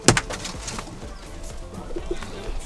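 Pigeons coo softly nearby in low, rolling calls inside a pigeon coop, with a sharper bird sound at the start and faint background rustle.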